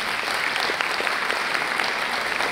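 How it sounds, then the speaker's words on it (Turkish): Dense, sustained applause from an audience at a talk, steady loud clapping throughout with no breaks. "siz alkışı hak ediyorsunuz."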